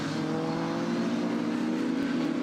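GT race cars including a Ginetta and a mid-engined BMW racing at Brands Hatch, engines droning at high revs in a steady, dense roar from the circuit.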